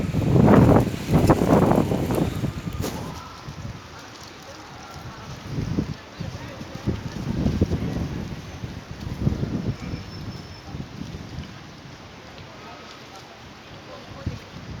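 Gusty lodos storm wind in Mersin buffets the microphone in loud rumbling bursts that rise and fade, with voices speaking intermittently underneath.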